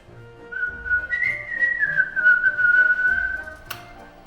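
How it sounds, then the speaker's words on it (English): A person whistles a single sustained, gently wavering tone for about three seconds, fairly close and clear, with a room murmur behind it and a short click near the end. "can you whistle?"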